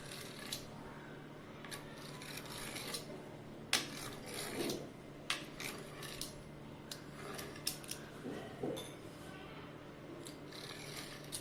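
Rolled dough for shankarpali-style dal snacks, made with ajwain, is cut into pieces, giving a series of light scraping and clicking cuts at an irregular pace, close and fairly soft.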